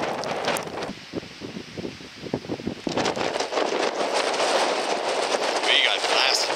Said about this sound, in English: Some wind on the way down from the summit there. Really picked up.